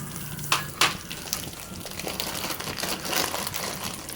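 Cashews, charoli nuts, dates and raisins frying together in a pan for payasam, a close, steady crackling sizzle with two sharper clacks early on and soft stirring noises throughout.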